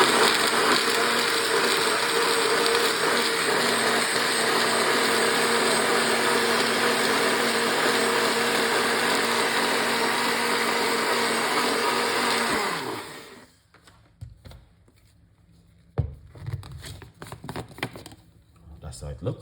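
A kitchen blender whirs loudly and steadily at high speed while mixing a gut-cleansing drink, running for about twelve seconds before cutting off abruptly, followed by quieter handling clatter and a voice speaking.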